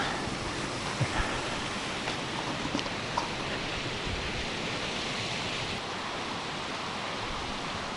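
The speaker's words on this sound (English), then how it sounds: "You have this small creek coming down." Steady broadband rush of a small mountain creek flowing, continuous and fairly close, with no voices.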